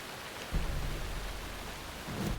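Rain at night in the video game Alan Wake 2: a steady wash of rainfall with low rumbling swells near the start and end, short and with no voices.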